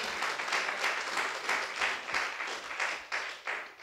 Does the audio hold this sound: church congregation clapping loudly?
yes